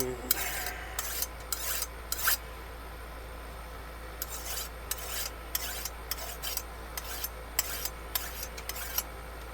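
Blade sharpening on an outdoor cooking setup, a dry rasping scrape repeated in quick strokes, roughly a dozen bursts in two clusters, close and fairly loud over a steady low hum.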